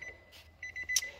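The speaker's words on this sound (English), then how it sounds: "I do apologise about the beeping, it doesn't like being switched on without the ignition running." Warning chime from a 2017 Nissan Juke 1.2 with the electrics on and the ignition off, a short series of bright electronic beeps close inside the cabin, the last one loudest.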